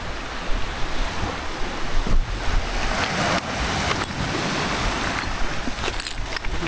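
Sea water and surf rushing near a seaside mansion, a loud continuous wash of waves with wind buffeting the microphone and occasional thumps.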